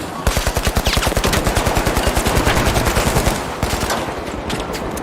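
Video-game turrets fire fast, evenly spaced shots in a loud, continuous stream that eases slightly near the end.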